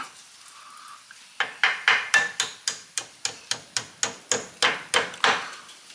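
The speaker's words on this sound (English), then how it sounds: "a little tap with the hammer" A hammer taps a metal pin while fitting Brembo-style rear brakes, a steady series of about a dozen sharp, ringing strikes, close and fairly loud.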